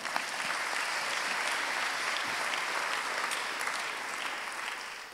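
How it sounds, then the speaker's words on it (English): An audience at a public science lecture applauds steadily, a dense, continuous roar of clapping that holds its level for several seconds before tapering slightly at the end. "And also a round of applause for the projection art by Robert Jordan."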